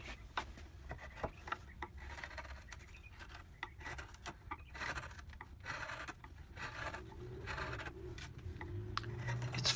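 Steady scraping and rubbing of a knife blade shaving black walnut, a rocking cut along the bevel while carving a spoon bowl, close and fairly quiet with small irregular strokes throughout.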